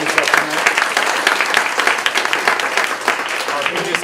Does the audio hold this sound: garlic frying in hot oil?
no